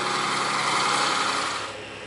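A John Deere tractor engine runs steadily nearby with a dense mechanical drone, easing slightly lower and quieter toward the end of the stretch.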